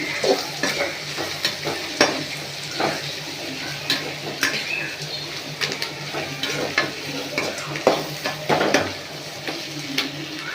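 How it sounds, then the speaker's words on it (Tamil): Beetroot sautéing in a pan for chutney, a continuous close sizzle broken by frequent spatula scrapes and taps against the metal. "இதை ஒரு ஒரு ரெண்டு செகண்ட் வதக்கினா போதும்"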